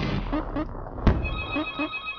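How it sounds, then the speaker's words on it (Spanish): A mobile phone ringtone rings loudly with a repeating melodic pattern over steady background music. "Comienzo a grabar y me suena el teléfono"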